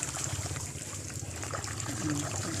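Water splashes and trickles steadily from a newly built hand pump well, a close, continuous pouring with low mechanical rumble and pumping noise throughout.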